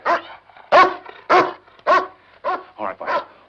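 A dog barks seven times in close succession, loud and near, each bark short and sharp with brief gaps between, and no voices over it.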